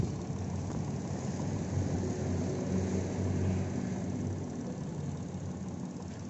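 A 2012 Mitsubishi Mirage GLX with a manual gearbox runs steadily, a low even engine drone close by with no speech over it.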